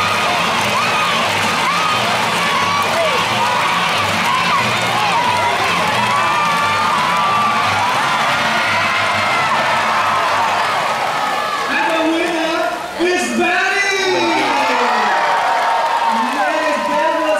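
Supporters at a bird show at Jurong Bird Park in Singapore cheer, whoop and shout together in a loud, continuous roar, with children's shrieks and a voice over the crowd near the end.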